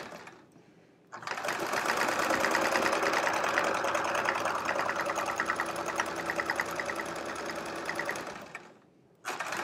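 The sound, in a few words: sewing machine doing free motion quilting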